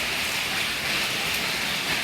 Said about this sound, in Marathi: पाऊस आला आहे